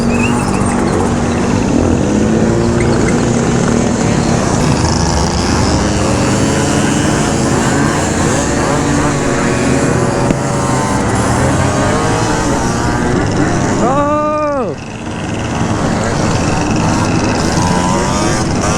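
A scooter with an open carb and velocity filter running steadily while being ridden through city tunnels, a loud continuous engine drone that holds nearly constant, with a brief pitched whine sweeping past near the end.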